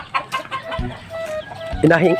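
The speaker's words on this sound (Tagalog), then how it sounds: "Inahing na manok." A laying hen by the nests gives short, close clucks, then a louder drawn-out cackle at the end.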